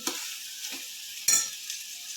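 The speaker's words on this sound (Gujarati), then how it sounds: "સારી રીતે હલાવી નાખશું આપણે" Spices fry in hot oil for a cluster bean and potato curry, with a faint hiss and three quick spoon scrapes, the last one loudest, heard close and without talk.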